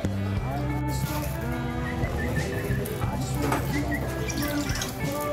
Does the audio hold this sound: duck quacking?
no